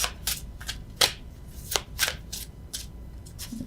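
Tarot cards shuffled by hand in a series of crisp riffling and slapping bursts, about eight quick card flicks spaced irregularly, close and fairly quiet with no talking.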